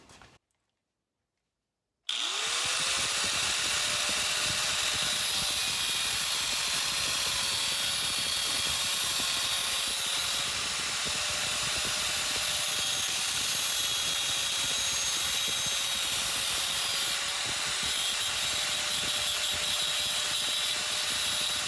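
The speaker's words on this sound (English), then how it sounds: "I'm just going to make a slice on this edge and then a slice up to that edge," A worktable sawmill cuts a groove into a piece of wood after a brief silence, starting abruptly into a loud, sustained high-pitched whine with a steady tone that holds for the rest of the clip.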